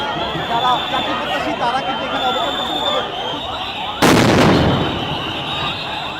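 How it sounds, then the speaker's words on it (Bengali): Police sound grenades going off at a street protest by teachers in Bangladesh, where water cannons are also in use. A sharp, loud blast cuts through the steady crowd noise and shouting, then fades into a rumbling tail. "পুলিশ আবারও ধাওয়া দিয়েছেন সাউন্ড গ্রেনেড ফুটিয়েছেন"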